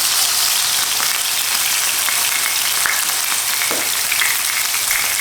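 A beef fillet searing in a hot pan for Beef Wellington gives a steady, loud, close sizzle and crackle that runs unbroken throughout, with faint spits and pops on top.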